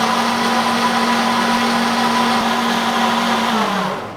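A blender whirs steadily as it purees fruit pulp in a BBQ kitchen, a loud, constant motor drone with a steady hum that dips in pitch as it winds down at the very end.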